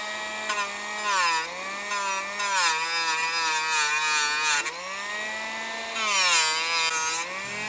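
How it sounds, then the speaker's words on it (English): A Dremel rotary tool with a flap wheel grinds paint or powder coat off a steel target and bond washer. Its high, whining motor pitch rises and dips as the wheel bites and lets off, loud, close and continuous. "I got just a flap wheel on my Dremel here"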